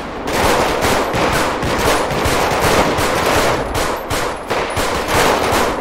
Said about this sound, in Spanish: Me gusta cómo suena esa pistola.